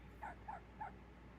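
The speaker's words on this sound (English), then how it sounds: "That poor dog, he just wants a hot dog." A dog lets out three short, faint whimpering yips in an even rhythm, at a distance over a low steady background hum.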